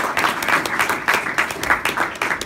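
An audience claps at a school oratorio performance, steady dense applause from a sizeable crowd in a hall, moderately loud and continuous throughout.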